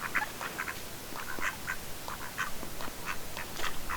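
Several ducks quack in quick, uneven bursts throughout, fairly close and clear, with a steady outdoor background behind them.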